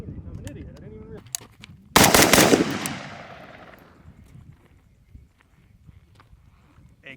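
A Zastava ZPAP M70 AK rifle fires a single loud, close shot whose crack rings out and decays over about a second, set among fainter clicks and handling noise.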